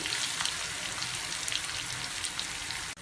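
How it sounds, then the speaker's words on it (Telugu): Onions for Dhaba-style palak paneer fry in a pan with a steady, soft hiss and sizzle that holds evenly throughout and cuts off abruptly at the end, heard alone with no talk. "కొంచెం ఉల్లిపాయ వేగిన తర్వాత"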